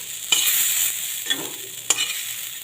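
Onion petals fry in oil in a pan with a soft continuous sizzle, close by, broken by three sharp scrapes of a spatula against the metal.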